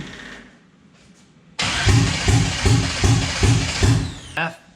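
A turbocharged LS engine swapped into a lunch truck cranks in a steady rhythmic churn of about seven loud pulses, then briefly catches with a sharp burst before stopping. People talk quietly beforehand.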